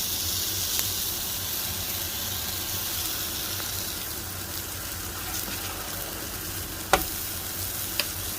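Pupusas of masa and melting cheese sizzle steadily on a griddle, a close, even frying hiss with a couple of sharp clicks near the end and no voices.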